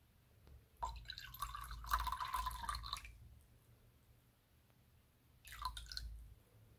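Liquid is poured slowly onto a kitchen scale in two separate pours, a longer trickling stream and then a shorter one, close and fairly quiet with a soft background hum and no talking.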